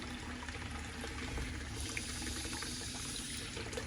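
Engine coolant trickles and splashes steadily out of a Mazda Miata MX-5 during cam belt replacement, a faint continuous watery pour heard close, with no voices.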